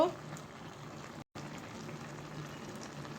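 Shoil fish dhalai curry with flat beans, potato, eggplant and cauliflower boiling in a pot, giving a steady, soft bubbling hiss that runs evenly throughout, broken only by a brief instant of silence.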